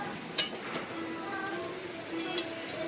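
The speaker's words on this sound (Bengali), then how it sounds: "এখানে আমি ব্রেডটা হালকা একটুখানি বাটার দিয়ে ভেজে নিচ্ছি" Bread frying lightly in butter in a pan gives a soft, steady sizzle with a sharp clink of utensil near the start and faint tonal hum in the background.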